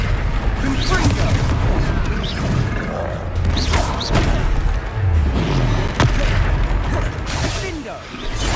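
A Confringo fire spell blasts in Hogwarts Legacy combat, with loud booming impacts and crashing bursts layered over dense battle noise for the whole stretch.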